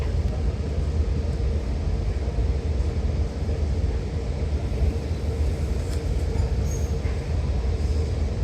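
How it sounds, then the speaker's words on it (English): A Long Island Rail Road train rumbles steadily toward the tunnel to Penn Station, a continuous loud, low roar of wheels and cars with no talk. "this Long Island Railroad train heading into the tunnel to Penn Station"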